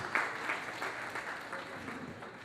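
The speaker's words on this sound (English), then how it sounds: "Please, let's give our president a big round of applause." A gala-night audience gives a steady round of applause for the president. The dense, continuous clapping fills the room, with no speech over it.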